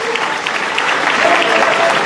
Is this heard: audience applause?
yes